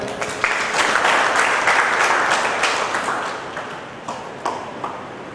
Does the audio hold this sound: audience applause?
yes